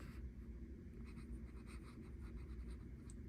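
A fountain pen nib with a very wet ink flow scratches softly across paper, a faint continuous close writing rustle with small strokes and no talk.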